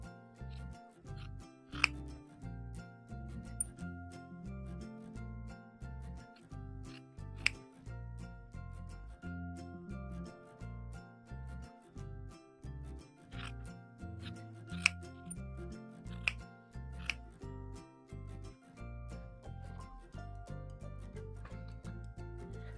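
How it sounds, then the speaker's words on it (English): Scissors trimming fabric seam allowances on a quilt block, with steady, close snips repeating at a fairly even pace for over twenty seconds and no talking. "We've got to trim our seam allowances."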